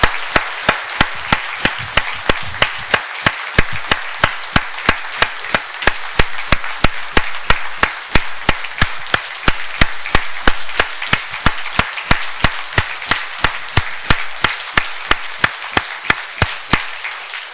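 Steady rhythmic clapping by a congregation at an Easter church service, a long run of sharp, evenly spaced claps in unison continuing for well over fifteen seconds with no talk.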